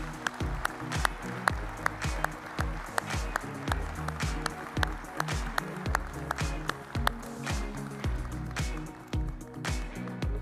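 Audience applause for a speaker at a high-performance computing conference plenary in Atlanta, a sustained, even patter of many hands under a continuous musical backing throughout.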